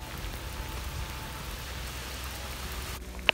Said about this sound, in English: it randomly started raining